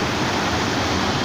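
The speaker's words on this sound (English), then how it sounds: "right now we've got a lot of white water. And this is about as big as it gets." White water rushes at Rocky Pool near Kalamunda, a river pool in full flood, producing a loud, dense, unbroken roar that fills the whole clip with no voices.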